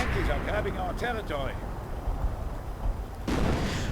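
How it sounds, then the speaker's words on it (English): Artillery shells landing in a World War II real-time strategy match, heavy booms and rumbling blasts in the background while a caster's voice talks over the opening seconds, then a fresh explosion near the end. "Register artillery getting called in"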